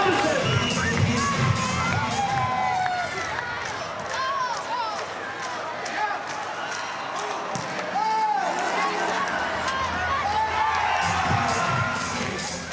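A home crowd roars and cheers at an Invictus Games volleyball match between Poland and Germany, filling the hall with loud, continuous shouting and whistles, while a commentator talks over the noise.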